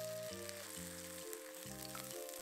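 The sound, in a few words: seafood scallion pancake frying in a pan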